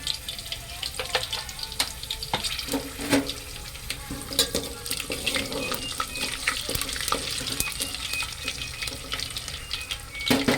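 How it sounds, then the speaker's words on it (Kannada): Cumin, mustard seeds and dried chilies crackle and pop steadily in hot oil for a tomato sambar, a dense close sizzle with scattered sharp spits and a few faint clinks throughout. "ಇವಾಗ ಜೀರಿಗೆ ಮತ್ತು ಸಾಸಿವೆ ಮತ್ತು ಒಣಮೆಣಸಿನ್ಕಾಯಿ ಇಟ್ಕೊಂಡಿದ್ನಲ್ಲ, ಅದು ಹಾಕ್ತಾಯಿದ್ದೀನಿ"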